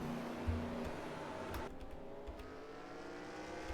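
Race trucks at Martinsville in a racing video game give off a steady engine drone with rising revs, fairly quiet and continuous, a faint higher whine passing around midway.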